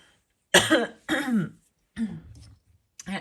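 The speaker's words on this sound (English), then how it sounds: "I'm going to click off because I'm coughing a lot." A woman clears her throat and coughs in a few close, harsh bursts with short silent gaps between them, ending in a brief final cough.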